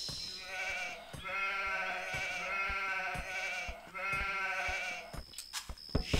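Sheep bleating steadily in Age of Empires 2 during a Catalaunian Fields battle mission, overlapping nasal bleats layered over a low hum, moderately loud and continuous, with a few sharp clicks near the end.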